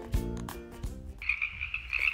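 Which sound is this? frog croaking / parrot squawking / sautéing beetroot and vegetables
frog croaking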